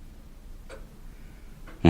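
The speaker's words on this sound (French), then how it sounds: "On n'entendit plus que le bruit d'une horloge qui battait les 100 pas dans le couloir" A clock ticks in a quiet corridor in a 1966 radio drama, with two soft, distinct ticks about a second apart before a sudden louder burst cuts in at the very end.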